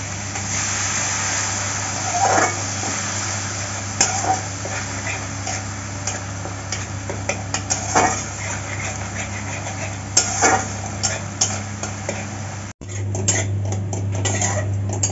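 Spice paste is stir-fried with a little water, sugar and salt in a pan for a Bengali fish curry with mustard and poppy seed, giving soft scrapes and occasional utensil clinks over a steady low hum.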